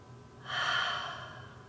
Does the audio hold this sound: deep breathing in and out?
yes